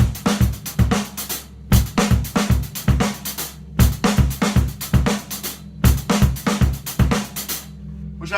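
A drum kit plays a rock groove, starting after an eighth-note rest, with punchy kick, snare and cymbal hits repeating in a steady, loud pattern throughout, no voices.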